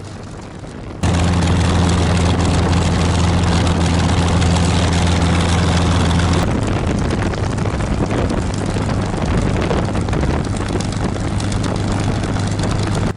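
A P-51 Mustang warbird's piston engine roars loud and close during its pre-takeoff run-up, a steady droning propeller rumble that drops slightly in pitch partway through and continues alone.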